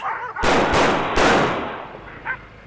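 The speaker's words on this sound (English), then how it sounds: "A pistol. He fires at the house. 5 times." A pistol fires five times at a house, heavy booming cracks crowding together into a long harsh burst up close, then a short faint tail.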